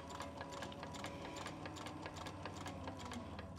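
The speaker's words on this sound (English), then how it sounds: "I'm going to just simply stitch" A leather sewing machine stitches at a steady, fast mechanical clatter, close and continuous with no talk.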